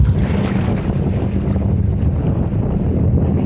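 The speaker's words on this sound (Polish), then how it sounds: "przyszedł ten wiatr z północy, który był zapowiadany" A strong north wind at sea on the Baltic roars steadily as dense, rumbling gusts buffeting the microphone, with a wash of waves underneath and no voices.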